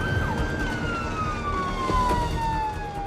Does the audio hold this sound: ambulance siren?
yes